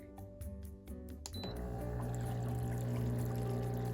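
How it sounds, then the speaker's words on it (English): A MaxKare foot spa switches on partway through, its bubbling water and motor hum rising into a steady, close churning after a few clicks and faint sounds. "Let's turn on the bubbles."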